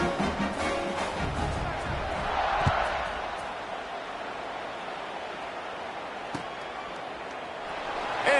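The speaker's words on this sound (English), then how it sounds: "this crowd is buzzing after that last score" A football stadium crowd buzzes after a touchdown, a broad steady roar that swells briefly and then settles into a sustained hum beneath faint chatter.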